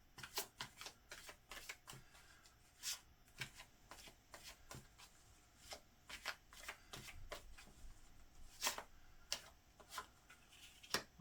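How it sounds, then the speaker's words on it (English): Tarot cards being laid out for a reading, crisp close card slaps and flicks in an irregular rhythm, quiet overall with no talking. "While I lay the cards, you go ahead and think of your question."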